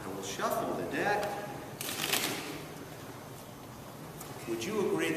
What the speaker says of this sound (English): I will shuffle the deck.